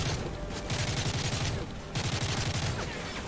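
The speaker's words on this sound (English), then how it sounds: "Someone's got shots on me." Bursts of automatic gunfire in Call of Duty: Modern Warfare 3, rapid rattling volleys in two runs with a short gap between them, fairly close and steady.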